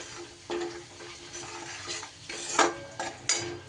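Turmeric and coriander powder tipped into hot tempered oil in a pan, with a soft steady sizzle under sharper scrapes and clinks of a spoon against the metal.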